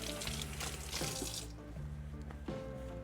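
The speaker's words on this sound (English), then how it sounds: "Wash your hands." Tap water running in a sink while hands are washed, a steady close splashing hiss with faint tonal hum underneath.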